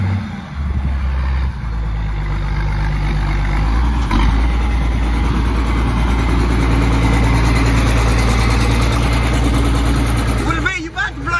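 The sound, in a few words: tractor engine idling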